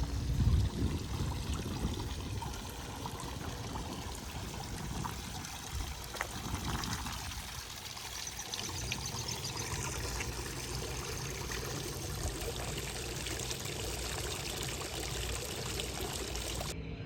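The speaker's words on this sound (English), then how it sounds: "Here's a little arch over the water fountain here in the city" Water runs steadily from a city fountain in the center of a shopping area in Pella, Iowa, a continuous splashing stream heard at a moderate distance with faint outdoor background.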